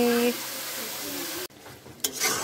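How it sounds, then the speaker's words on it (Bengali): Hilsa fish frying in mustard paste, a steady close sizzle that drops out abruptly midway, then returns after a brief clatter. "আমি সর্ষে বাটা রান্না করছি ইলিশ মাছের।"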